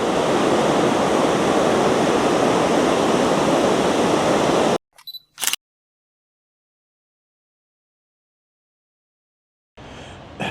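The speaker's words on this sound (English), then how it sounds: "Rutledge Falls." Rutledge Falls, a waterfall in South Tennessee, roars as a loud, steady broadband rush for several seconds, then cuts abruptly to silence; a softer rush of water returns briefly near the end.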